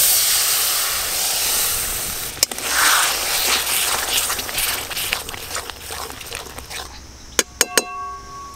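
Spice paste frying with onion juice for a chital fish curry with tomato paste, giving a steady close sizzling hiss that fades toward the end, broken by a few sharp metallic clinks of a utensil against the pan.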